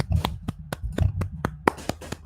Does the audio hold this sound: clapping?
yes